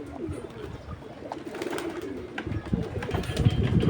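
Pigeons coo together after males and females are let out into one space, low throaty calls overlapping steadily from several birds nearby, no talk.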